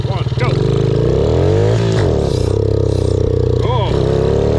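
Nitrous-fed mini bike engine roaring loud and close as it accelerates on a timed eighth-mile run, rising revs with shifts and a brief falter near the end, with speech heard over it.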